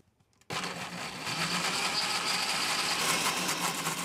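A kitchen blender liquefies a curry marinade for baked Hyderabadi chicken, starting abruptly after a short quiet moment and then whirring loudly and steadily at full speed with no talk over it.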